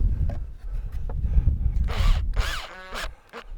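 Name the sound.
drill driver driving screw into plank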